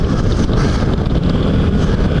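A Kawasaki VN800 motorcycle engine rumbles continuously while riding, its low drone heavily mixed with loud wind buffeting on the microphone.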